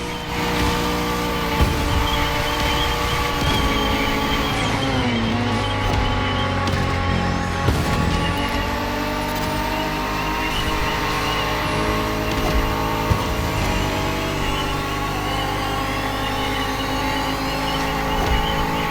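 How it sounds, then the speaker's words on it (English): A Bugatti Vision GT in the racing video game The Crew Motorfest drones loudly and continuously, its engine note rising and falling through revs and gear shifts with occasional sharp transitions. "Bugatti served me one last exclusive piece of art on a plate. Bugatti Vision GT."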